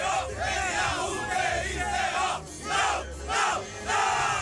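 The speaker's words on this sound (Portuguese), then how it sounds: "A torcida do Náutico comparece e mostra a força que estava escondida há muito tempo." Náutico football supporters in a stadium chant rhythmically, their massed voices swelling and falling in repeated surges, loud and distant-sounding across the stands.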